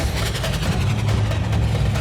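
A drag race car engine roars steadily and loudly while building turbo boost, a dense low rumble with whooshing upper noise and no talking over it.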